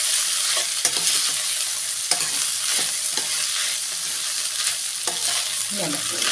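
Egg noodles and vegetables tossed together in a hot frying pan: a constant sizzle runs underneath, broken by a few sharp spatula scrapes and clanks against the pan, close up and with no talking.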